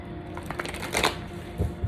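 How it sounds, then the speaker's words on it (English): A deck of tarot cards is shuffled by hand in a few quick, papery riffling bursts, close and fairly soft, with a brief pause between handfuls and no talking. "Let's get one more shuffle."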